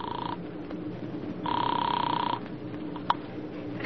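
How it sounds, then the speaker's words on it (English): A telephone rings for a call to Chicago in an old radio drama, two bursts of electric bell ringing separated by a pause, fairly clear against a quiet background. "I put in a call to Chicago and got the paper on the phone."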